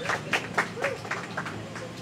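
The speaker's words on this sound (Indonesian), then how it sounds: "Tepuk tangan dong untuk Bang Thompson." Sparse, uneven handclaps from an audience at a book event for Tepi Toba greet Thompson HS, mixed with murmuring voices over two seconds.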